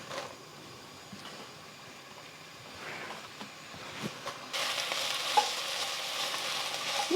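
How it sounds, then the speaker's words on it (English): Chopped onions and ginger frying in a pan, a soft sizzle that builds in the second half, joined by occasional stirring scrapes. "I'm going to cook this for about 2 to 3 minutes, just until the onions are softened"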